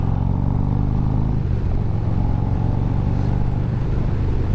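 A big Harley-Davidson Street Glide cruiser roars along the road, its engine a loud, steady, close drone with a low rumble that shifts slightly as the ride goes on.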